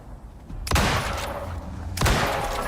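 Two loud gunshots in the survival game Icarus, about a second and a half apart. Each is a close, booming blast with a rolling tail that lingers, and there is no talk between them.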